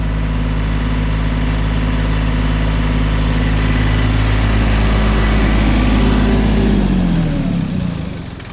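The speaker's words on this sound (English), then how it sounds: "I had to keep it idling high, otherwise the hydraulic starts dropping." A one-ton LS-swapped Jeep CJ engine held at a high idle, a loud, close, continuous low rumble with a steady tone that sags slightly near the end as the revs settle.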